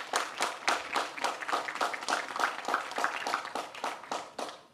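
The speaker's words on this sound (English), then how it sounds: "Let's give him a round of applause as well." A small crowd claps in a rapid, steady patter for a River Authority board member at a gathering, the applause holding fairly even for several seconds before thinning at the end.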